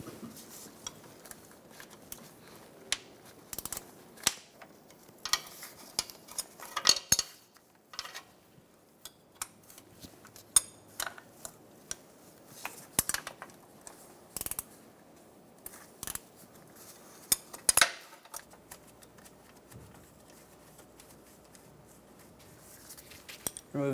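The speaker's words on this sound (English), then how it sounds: "Remove the 13mm nut for the ground cable." Removing the 13mm nut from the starter ground cable on a 2012-2020 Chevrolet Sonic produces scattered metallic clicks and ratcheting taps from a wrench, with irregular bursts and short pauses, close and fairly quiet.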